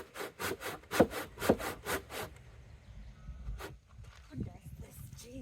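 Hand saw cutting wood for a driveway gate, about eight rhythmic back-and-forth rasping strokes up close, then scattered scraping and handling sounds with some voice.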